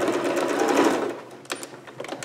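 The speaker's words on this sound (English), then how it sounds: "I'm just going to maybe go a little bit extra through that seam there just to strengthen that." A sewing machine runs a reinforcing pass over a sleeve seam on a Vogue 8280 garment, giving a steady close whir for about a second, then quieter, shorter stitching bursts.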